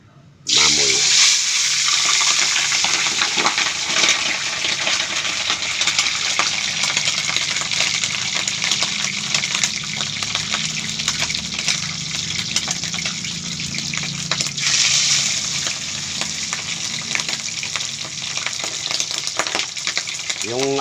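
A pork leg for crispy pata drops into hot cooking oil, setting off a sudden, loud, sustained hissing sizzle that holds steady over a medium flame, with crackles and pops running through it.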